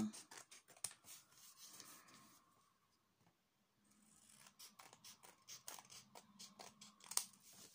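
Scissors cutting through card stock for a handmade Christmas card: a close, quiet series of crisp snips and crunches in irregular bursts, with a short pause midway before the cutting resumes.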